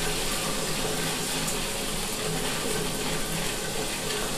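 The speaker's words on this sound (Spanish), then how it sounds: "Dejamos la tubería purgando unos dos minutos aproximadamente, que suelte agua caliente" Hot water runs steadily from a purged pipe outlet at a flat, building water system, a continuous close hiss and gush with no talk.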